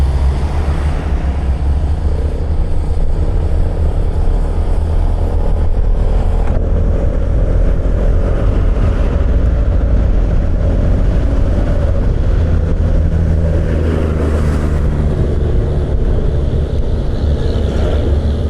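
A car speeding at night on the Trans-Sumatra highway, its engine and road roar steady and loud throughout, with wind and tyre rumble filling the cabin and no talk.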